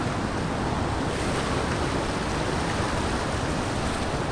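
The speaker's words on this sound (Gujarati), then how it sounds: "અહીંથી ધોધ પડે" The Jamvada waterfall near a village pours in a dense, steady roar that is loud and close. The rushing water sounds continuous, with no pauses.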